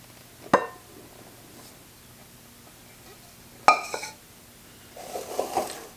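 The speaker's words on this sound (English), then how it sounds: "So first we're going to mix together our flour, sugar, baking powder, and salt." Flour, sugar, baking powder and salt mixed in a bowl for scones, heard as two sharp clinks of a utensil against the bowl and a brief patch of scraping near the end, otherwise quiet.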